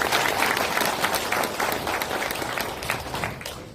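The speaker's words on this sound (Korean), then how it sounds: "힘찬 박수 부탁드립니다." Hearty applause from the audience at a meeting with national farming organizations, a broad, sustained wash of many hands clapping that stays loud and then begins to thin near the end.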